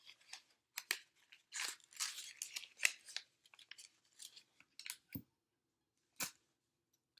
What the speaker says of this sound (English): Tape this up, and then same thing on the other side.